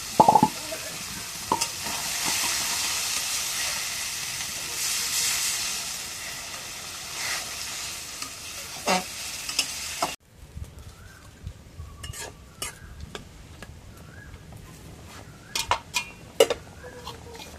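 Fish roe frying in a pan after a splash of water is added, with an intense close hiss and sizzle that later drops to quieter crackling, scattered pan and utensil clatter throughout, no talk.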